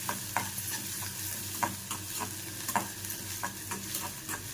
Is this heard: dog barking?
no